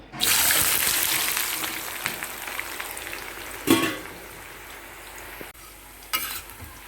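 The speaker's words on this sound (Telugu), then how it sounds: "నూనె వేడెక్కింది ఈ ముక్కలు వేసేసి వేయించుకుందాం" Pickle pieces hit hot oil in a pan and fry with a loud, bright sizzle that swells at the start and then settles, with a couple of sharp stirring scrapes and spatters along the way.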